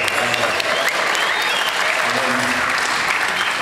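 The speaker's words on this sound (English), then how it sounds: "I thought you were applauding me." Audience applause fills the room, dense and sustained clapping at close range, with faint traces of voices mixed beneath the steady roar of hands.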